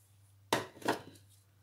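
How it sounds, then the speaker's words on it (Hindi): Onion chopped with a knife on a board: two sharp, close strikes about half a second apart, then quiet. "ये थोड़ी सी प्याज दूसरी काटी है ये काट डालेंगे"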